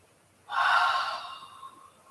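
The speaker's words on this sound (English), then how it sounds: "breathing in through the nose. Hold and exhale through the mouth." A single deep cleansing breath during a slow-flow yoga session, drawn in through the nose and released through the mouth: one soft, close airy rush that swells quickly, then tapers into a long fading exhale in a quiet room.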